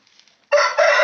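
A rooster crows loudly and close by in a poultry breeding pen: one strong, sustained cock-a-doodle-doo follows a second of quiet.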